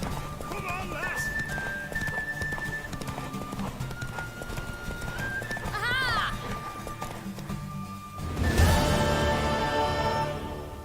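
Galloping hooves clip-clop steadily under a game score in The Witcher, with a horse neighing and whinnying partway through and a louder burst of motion near the end, while voices talk over it.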